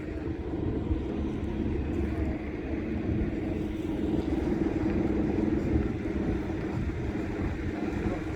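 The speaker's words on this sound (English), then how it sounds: "we've got a big tractor moving" A big tractor moving on a council estate, heard as a steady, continuous low engine rumble with broadband noise, fairly close and unchanging throughout, with no talk over it.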